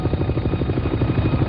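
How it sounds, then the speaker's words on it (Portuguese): A Navy helicopter flies at an air-accident site, its rotor beating in a steady, rapid chop that stays loud and continuous throughout, with no voices. "vai direto ao local do acidente em um helicóptero da Marinha"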